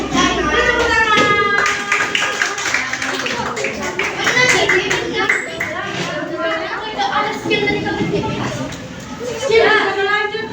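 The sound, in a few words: children clapping hands in a classroom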